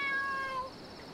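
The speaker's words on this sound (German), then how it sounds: "Oh, stimmt, die Katze. Dieses Geräusch." A cat in the video game Dave the Diver gives a single short, clear, high meow over a soft background hum.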